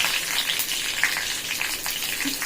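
Dried chillies and mustard seeds fry in hot oil, giving a close, dense crackling sizzle with small pops spread throughout, heard alone without talk.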